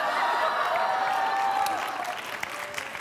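A studio audience applauds on a daytime talk show, a loud, even wash of clapping that slowly eases in level over a few seconds while faint voices come through underneath.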